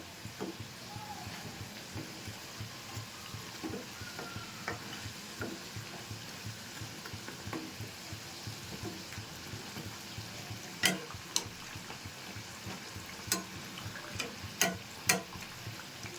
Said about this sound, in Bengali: পিঠেগুলো ভাজা হয়ে গেছে, তুলে নিচ্ছি